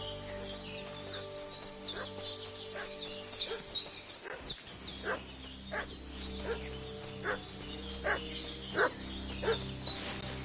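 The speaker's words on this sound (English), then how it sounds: "What's that dog making such a fuss about?" A dog barks repeatedly in a medieval village setting in Kingdom Come Deliverance 2, sharp yips and woofs in an uneven run over ambient birdsong, fairly close and steady throughout.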